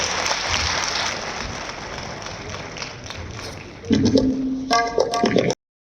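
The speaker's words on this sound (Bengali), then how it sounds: "আমরা সবাই মিলে একবার তার জন্য হাততালি দিই" An audience at a stage event in Agartala, Tripura, marking 21 February, claps together for a singer, a dense steady wash of applause that swells near the end before cutting off, with an announcer's voice over it.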